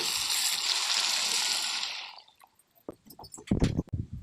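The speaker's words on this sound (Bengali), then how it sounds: "আমি পরিমাণ মতন জল দিয়ে দেবো ঝোলের জন্য" Water pours in a bright steady splashing stream into a pan of mustard-based spice paste for tilapia curry, stops after about two seconds, then a few soft squishy stirring and clinking sounds follow.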